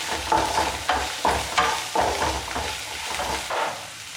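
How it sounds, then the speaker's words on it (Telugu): Gobi manchurian is mixed in a hot pan after chili powder is added, with a rhythmic series of stirring scrapes over a light sizzle, about one stroke every half second. "వేసుకొని బాగా కలుపుకోండి."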